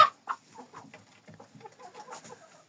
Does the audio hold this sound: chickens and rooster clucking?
yes